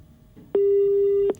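Telephone busy tone after a caller's line drops during a live call-in broadcast: one steady electronic beep, loud and clean, starting abruptly and holding for under a second before cutting off, with only faint background before it.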